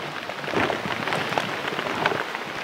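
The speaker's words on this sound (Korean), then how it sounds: "아이, 비가 얼마나 오는 거야 올해는. 아이고, 왜 이렇게 비가 많이 와 또." Heavy rain pours down in the mountains, a dense, loud, constant wash of drops hitting surfaces with no break and no voices.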